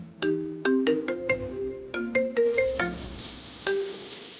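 A mobile phone ringtone plays a bright, bouncy melody of plucked electronic notes, loud and close, running in quick phrases and ending with a final ringing note, with no voices over it.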